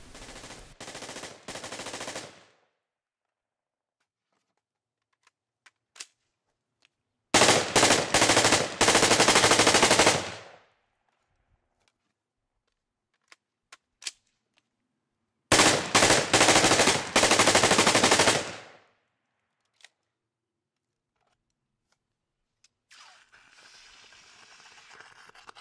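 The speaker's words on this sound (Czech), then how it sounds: "ve vodě a následně byl vystřelen další zásobník" A FAV-AR rifle empties full magazines at a shooting range, three long bursts of rapid automatic fire, loud and close, separated by silent pauses with a few isolated single shots between them.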